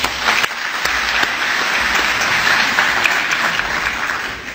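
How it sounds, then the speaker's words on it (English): Audience applause at a DXN company event, a dense, steady wash of clapping from many hands that holds at an even, fairly loud level for several seconds with no voices. "Give a round of applause to DXN,"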